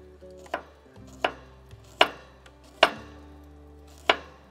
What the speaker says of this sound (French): Gousse d'ail que je vais hacher pas hacher, je vais trancher en fines lanières